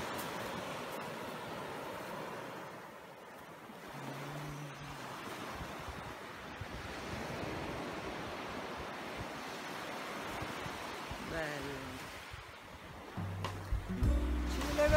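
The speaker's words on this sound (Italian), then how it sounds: "Ho sentito il rumore delle onde." Sea waves wash and roll continuously at sunset with wind buffeting the microphone, the surf swelling and fading, growing louder toward the end.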